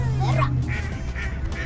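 A duck quacks loudly and close by in a Smithville, Galloway, New Jersey park setting, several quick calls in a row with a brief spoken word at the start.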